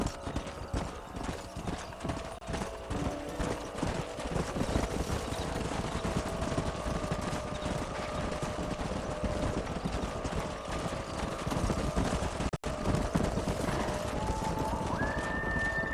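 Horses in Red Dead Redemption clip-clop steadily and close by, hooves beating in a continuous rhythm, with an occasional whinny and some background game ambience and no talking.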